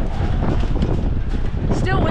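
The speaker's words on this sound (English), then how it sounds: "Oh yeah, the wind's blowing." Wind gusts buffet the microphone outdoors at a music festival, a loud continuous roaring rumble with swells, with voices speaking underneath.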